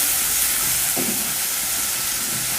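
Green chili frying in oil with curry leaves in a pan, a steady broadband sizzle with a brief stir clatter near the start.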